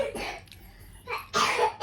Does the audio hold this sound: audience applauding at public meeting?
no